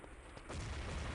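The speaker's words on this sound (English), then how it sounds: "Bray going for the spawn nades" Grenades thrown at the enemy spawn in a competitive team shooter match set off a dull, muffled boom that swells midway through, low and fairly distant.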